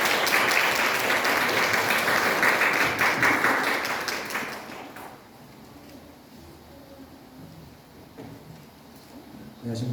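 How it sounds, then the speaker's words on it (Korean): A church congregation applauds loudly for about five seconds at a Sunday worship service, then the clapping fades into quiet room ambience with faint shuffling. "박수를 좀 환영해 주실까요?"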